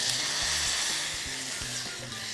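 Water hits hot red lobster butter in a pan and boils rapidly, producing a continuous close sizzle with scattered bubbling pops and no voices.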